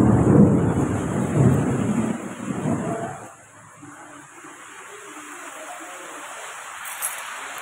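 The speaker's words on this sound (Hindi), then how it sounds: "बापरे वर्षा" Heavy rain and a rumble of thunder: a loud, rough roar fills the first three seconds, then drops to a steady, quieter hiss of rainfall that carries on alone.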